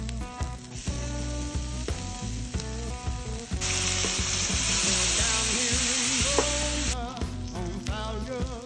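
Loaded smashed potato skins topped with jalapeno rub, barbecue sauce, pulled pork and bacon sizzle steadily on a hot griddle, a close, continuous frying crackle that swells louder midway, with light scraping and clinks throughout.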